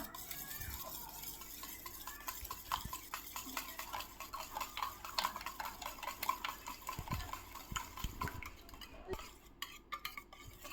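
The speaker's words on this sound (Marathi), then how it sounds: "हे सगळं मिश्रण आपल्याला एकत्र करून घ्यायचं आहे बघा" Egg sandwich filling mixed with a little chutney in a bowl, a steady close-up run of spoon clinks and soft scraping strokes at low volume, with no talking.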